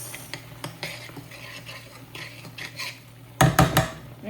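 A spoon mixes chole with salt in a metal pot, giving light scrapes and taps followed by a burst of louder clanks against the pot near the end, with no voices.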